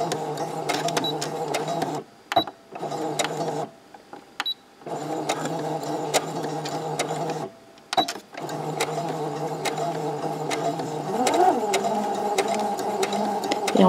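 An electronic sewing machine stitches a blouse along the bias in steady whirring runs, its motor stopping briefly and starting again several times, close and clear with no talking over it.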